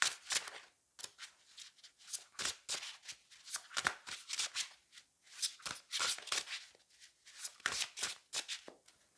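Tarot cards are shuffled and drawn in quick, crisp riffles and flicks, close and fairly quiet, coming in irregular bursts separated by brief pauses, with no talking.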